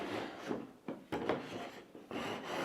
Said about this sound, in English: So these cans are, I call them eyeball cans. So you can swivel them around.